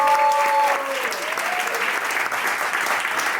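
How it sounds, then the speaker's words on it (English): A big, loud burst of audience applause for students at a school reunion, a thick, continuous wash of clapping from start to finish. "one big round of applause for our wonderful students over here who have worked really hard"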